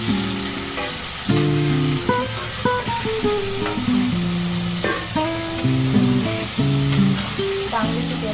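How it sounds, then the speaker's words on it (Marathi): Mushi fish pieces fry in hot oil with browned onion, a steady loud sizzle broken by stirring scrapes, with background music playing throughout. "आणि आता याच्यात मुशी टाकायची आणि परतून घ्यायची तेलात।"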